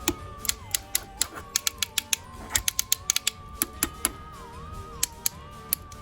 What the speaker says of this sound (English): Those beautiful ratchet joints ensure that whatever pose you get him in, he'll stay in it.